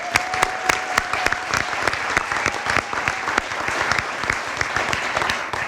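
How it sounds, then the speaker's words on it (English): A crowd at a spring sports Dream Team awards event gives the golf team loud, sustained applause. Dense clapping carries crisp individual hand claps close by and holds strong for the whole stretch. "let's hear it one more big round of applause for the Golf Dream Team 2014"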